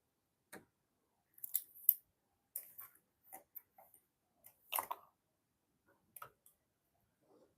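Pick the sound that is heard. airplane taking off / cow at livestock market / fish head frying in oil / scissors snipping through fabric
scissors snipping through fabric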